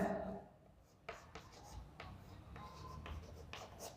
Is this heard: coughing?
no